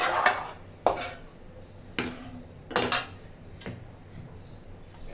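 A metal utensil scrapes and knocks against a pan while spices are mixed for chicken korma, a handful of distinct, uneven clanks and scrapes at close range with no talking.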